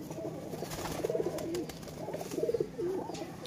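A red Kasoori pigeon hen coos in low, rolling phrases, two or three soft repeated calls close by over a quiet background.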